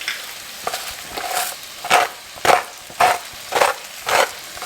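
Leeks and potatoes are stirred through butter in a pot, a spoon scraping in regular strokes about every half second, each one a soft close scrape against a faint background sizzle.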